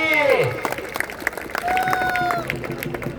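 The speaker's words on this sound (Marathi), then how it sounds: "पृथ्वी टाळ्या करा एकदा त्या पोरासाठी" Crowd at an outdoor kushti wrestling ground in Mundhwa, Pune, clapping and murmuring under a loud announcer speaking over the noise.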